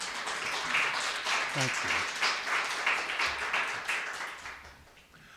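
Audience applause following a poetry reading at a prize event, a steady wash of many hands clapping at moderate distance that fades toward the end, with a brief spoken thank-you over it.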